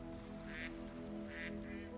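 Two short, faint duck quacks about a second apart from a pond, heard over a steady low hum in a quiet evening outdoor setting.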